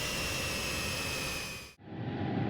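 Steady jet roar from a UPS cargo jet climbing in flight, a broad constant rushing hum that drops out abruptly near the end and then returns with a deeper rumble.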